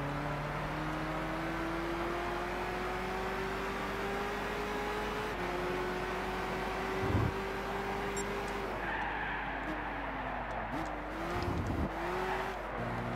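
A race car in Gran Turismo 6 at the Goodwood Festival of Speed drones steadily as the engine pulls slowly through a long first gear, its pitch climbing gradually before dipping briefly at shifts.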